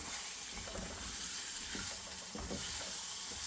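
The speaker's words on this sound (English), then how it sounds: "We're going to let this cook down for about 5 minutes for the prawns to cook." Prawn coconut curry simmering in a covered pan, giving a steady, faint hiss and gentle bubbling sizzle throughout, with no one speaking.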